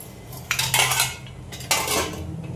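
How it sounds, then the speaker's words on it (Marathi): Metal idli steamer pots clank as they are stacked onto a pot of already boiling water, two sharp metallic knocks close by, each ringing briefly before fading. "त्यानंतर आपण लावले तिसरं भांडं."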